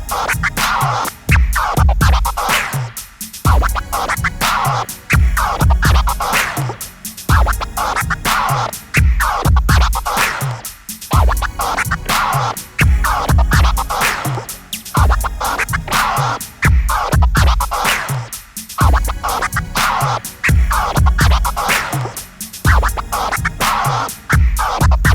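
A DJ scratches a record on a turntable over a steady beat in a freestyle combo, with rapid, busy scratch bursts riding a loud, continuous rhythmic groove for the whole stretch.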